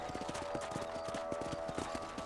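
Horse hooves gallop in Red Dead Redemption, a steady rhythmic clip-clop of repeated beats under a constant background of game ambience.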